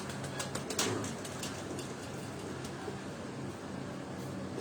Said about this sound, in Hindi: ये भी मोतियों वाला कबूतर है।